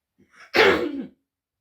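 One short, harsh cough, close and loud, preceded by a faint breath and followed by silence.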